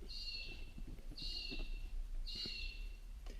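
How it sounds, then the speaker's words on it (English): A magpie-lark calls outdoors in three loud, repeated whistled notes spaced about a second apart, carrying over a low background rumble and faint indoor clicks. "That's the magpie lark screaming out there."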